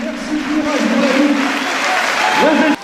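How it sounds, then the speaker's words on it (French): Crowd at a political rally for Olivier Besancenot applauding steadily and loudly, with cheering voices and tonal calls rising above the dense clapping throughout. "Acclamé par la foule"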